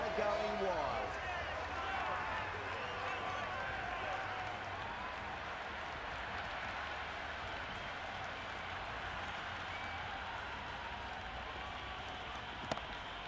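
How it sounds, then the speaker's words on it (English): A stadium crowd roars and cheers in the cricket video game Cricket 26 after a hat-trick during an India versus Pakistan T20 World Cup warm-up match, a steady loud wash of noise under commentary. "That's a hat-trick and the crowd are going wild."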